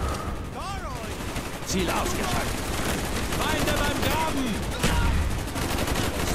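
Enemy gunfire in Call of Duty Black Ops during a jungle firefight, a dense, continuous rattle of rifle and machine-gun shots with occasional louder bursts, heard under brief speech.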